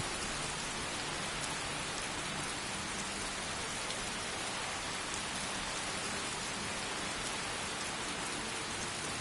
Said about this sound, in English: Very, very heavy rain.